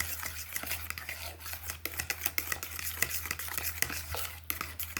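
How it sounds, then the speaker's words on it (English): Banana nut bread batter being stirred in a bowl, a close run of irregular wet scraping and soft utensil knocks against the bowl, steady and moderately loud with no voices. "Just stir this a bit, let everything come together nicely."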